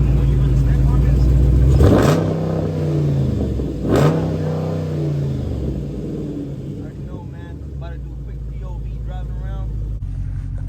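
Dodge Scat Pack with a mid muffler delete, engine revved hard twice in quick succession with deep rising roars, then settling into a rough idle rumble with a voice talking over it.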